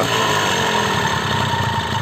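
A moped running on its original exhaust gives a steady, moderately loud engine hum with a fine rattling texture and no speech.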